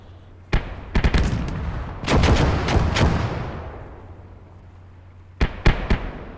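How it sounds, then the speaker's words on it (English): Howitzer artillery in the war game Gates of Hell: sharp booming shots with rolling reverberation, several in quick succession early on, then another cluster of reports near the end, loud and close. "We are firing away with the howitzer"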